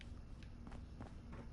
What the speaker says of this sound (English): I hear big fat footsteps on the other side.